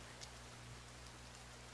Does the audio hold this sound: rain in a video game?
yes